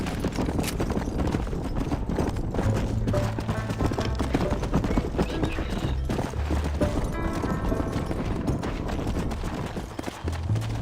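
Horse hooves clip-clop in Red Dead Redemption 2, a steady rhythmic trot heard close throughout, over busy game ambience with faint voices.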